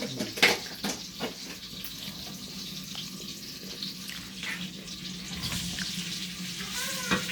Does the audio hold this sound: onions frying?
yes